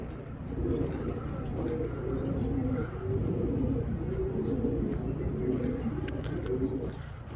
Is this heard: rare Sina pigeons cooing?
yes